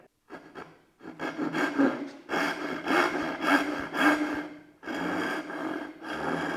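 A Japanese dozuki handsaw rasps through wood in quick back-and-forth strokes, close and steady, with a few short pauses between bursts of cutting.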